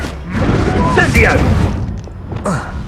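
A loud boom of the Incendio fire spell cast in the Hogwarts Legacy video game, a single rumbling burst mixed with a shouted voice and fading tail.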